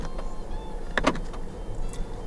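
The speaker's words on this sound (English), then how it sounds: "Electronic central locking." Central locking on a 2023 Proton X70 1.5 TGDi actuating, giving a quiet, brief mechanical clunk-click pair from inside the cabin against a low background hum.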